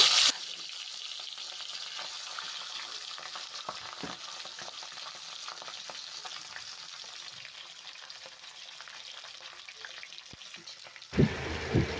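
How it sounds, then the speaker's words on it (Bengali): A fish head fries in hot oil for a Bengali moong dal dish, a continuous crackling sizzle close by that stays even, then a brief louder burst of spattering near the end. "এবার আমি মাছটা ভেজে নেব।"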